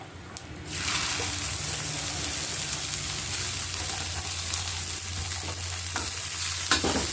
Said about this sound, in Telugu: ఇదే ఆయిల్లోకి చింత చిగురు వేసుకొని వేయించుకుందాము